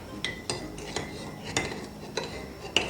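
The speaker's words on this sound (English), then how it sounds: "And then I'll stir." A metal spoon stirs turmeric tea sweetened with date syrup, clinking against the cup in light, close taps about every half second, with no talking.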